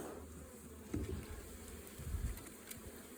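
Honey bees buzz around a backyard beehive during liquid feeding, a dense, steady drone of many insects with individual bees swelling louder as they pass close to the microphone.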